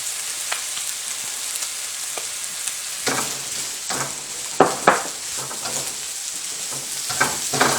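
Fresh garlic and ginger sizzling in a pan for Sichuan-style green beans, a steady hiss that grows busier midway with several clattering stirs and scrapes against the pan, no talk.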